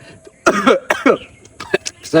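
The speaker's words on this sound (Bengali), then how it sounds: "কাশি উঠে গেছে" An older man coughs in several harsh, close bursts, clearing his throat between fits, with some vocal sounds mixed in.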